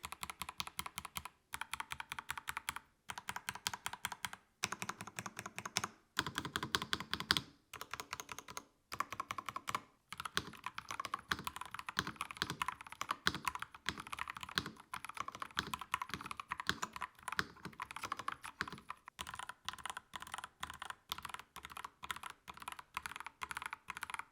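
Steady typing on a Royal Axe R100 mechanical keyboard, close and clear, with rapid, slightly muted, creamy clacky keystrokes in bursts separated by brief pauses, no voices.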